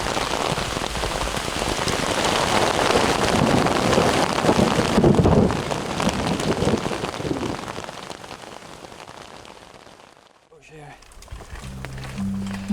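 Heavy rain pours onto a ground sheet during a lightning storm, a dense, loud, steady hiss with wind buffeting the microphone, easing and briefly dropping out before resuming more lightly.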